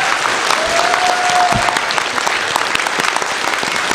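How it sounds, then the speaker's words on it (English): Steady, loud applause fills a Comic Con panel room in Honolulu, continuous clapping from a large audience with no break. "let's give a big round of applause."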